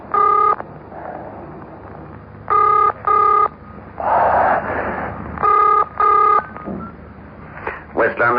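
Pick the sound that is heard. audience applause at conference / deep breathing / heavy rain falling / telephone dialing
telephone dialing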